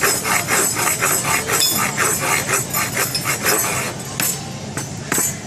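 Rapid, steady tapping strikes repeat in a quick rhythm, close and fairly loud, like a hammer working on metal or wood.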